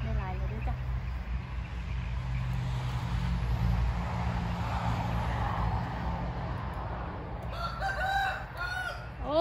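A rooster crows at dusk in a rural outdoor setting, the call rising over steady background noise and a low hum, with a voice speaking toward the end.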